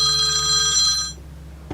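A mobile phone rings briefly, a bright electronic tone that fades out after about a second, followed by a soft knock, in a quiet room during a question-and-answer session.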